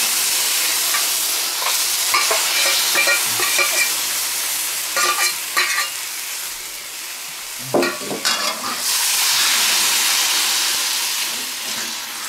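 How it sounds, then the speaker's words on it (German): Teriyaki chicken frying in a wok with a continuous hiss and sizzle, broken by repeated scraping and clattering stirs, close and fairly loud with no talking. "Und so brutzeln wir jetzt erst einmal unser Hähnchen an."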